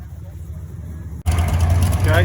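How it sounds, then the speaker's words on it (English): A twin turbo big block drag race car at a drag strip rumbles loudly with a deep steady idle, starting abruptly after a short quieter stretch of background noise. "It is a twin turbo big block."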